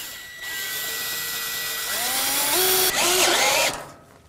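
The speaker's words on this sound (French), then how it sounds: "Et je visse comme ça le profilé tous les mètres" A power drill drives screws through a metal profile into a wooden joist for a slab terrace on a metal frame, a loud close whine rising in pitch in bursts before cutting off.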